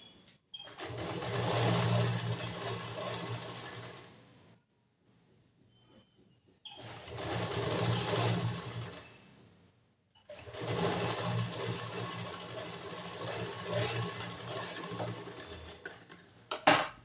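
A sewing machine stitches a boat neck blouse in three long whirring runs separated by short pauses, steady and close, with a faint click at the end.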